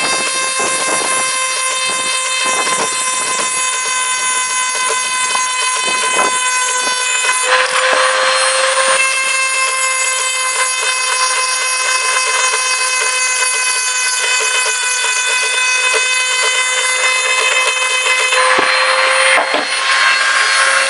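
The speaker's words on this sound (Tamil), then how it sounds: "அதனால நம்ம இதை வச்சு கிரைண்டிங் பண்ணிக்கலாம்." An INGCO mini angle grinder grinds metal in a loud, piercing, continuous whine with a gritty scraping texture, the pitch steady throughout with brief surges as the disc bites the workpiece.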